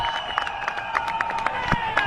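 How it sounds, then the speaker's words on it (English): A cricket crowd at a Pakistan versus India semi-final roars steadily, with scattered claps and sustained horn-like tones running through the dense, continuous din. "Now we can hear the roar from the crowd"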